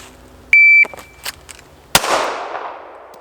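A shot timer's single electronic beep, then after a short pause one loud, sharp shot from a Ruger LCP Max compact pistol fired from belt line at an outdoor range, its report trailing off.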